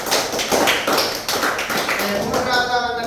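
A classroom of students claps for a classmate in a short burst of crisp, fairly close claps in an uneven rhythm. A voice briefly joins near the end.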